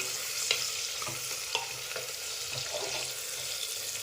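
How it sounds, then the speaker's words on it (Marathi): Onion and potato sautéing in a pan, a steady sizzle with several scraping stirs of a spoon against the pan, alone with no talk. "कांदा लाल सरासं परतून घ्यायचा आहे आपल्याला"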